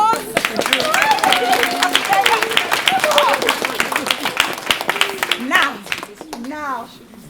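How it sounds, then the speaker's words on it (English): Audience giving a round of applause at a community Christmas advent gathering, brisk clapping mixed with voices and children chattering, loud and close. "Let's have a round of applause."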